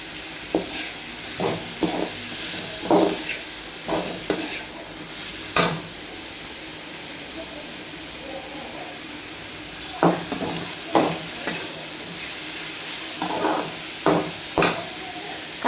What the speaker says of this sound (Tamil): புடலங்காவை இது கூட சேர்த்துக்கணும் சேர்த்து ஓரளவுக்கு வதக்கிட்டு